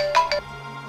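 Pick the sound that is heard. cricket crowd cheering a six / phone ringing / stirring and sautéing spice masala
phone ringing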